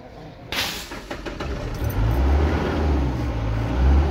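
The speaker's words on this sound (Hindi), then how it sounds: "गाड़ी स्टार्ट।" A Mahindra Bolero engine cranks and catches with a sharp burst, then settles into a steady, loud idle rumble close by.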